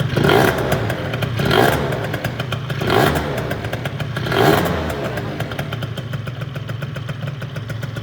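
A 70cc moped engine revs hard right after its first startup, four loud rising bursts about a second apart over a steady clattering idle, close and alone with no talk.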